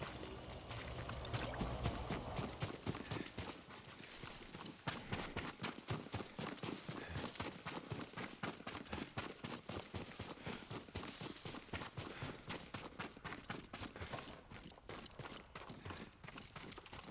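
Horse hooves clip-clopping in Ghost of Tsushima, a steady rapid run of hoofbeats continuing throughout at a moderate distance, with no talk over it.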